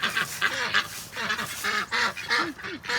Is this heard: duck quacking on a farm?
yes